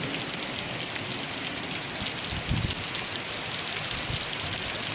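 Heavy storm rain pours down steadily outside an open garage door, a dense, loud, continuous hiss of drops hitting surfaces, with a brief louder thump near the middle and no voices.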